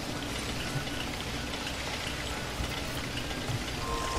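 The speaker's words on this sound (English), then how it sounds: "Beautiful, beautiful, and it's raining." Rain in the dinosaur park game Jurassic World Evolution, a dense, even hiss of falling drops with a few soft splashes, steady and fairly loud with no talk.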